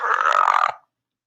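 A person imitates a pterodactyl screech with a single rough, croaking, burp-like vocal cry lasting under a second, close and loud, then silence.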